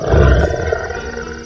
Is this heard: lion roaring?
yes